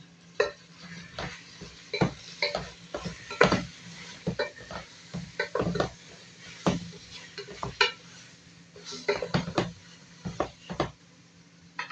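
Chicken adobo cooking in a pot, a soft background simmer broken by repeated clanking and scraping of a utensil against the pot in irregular bursts, with no talk.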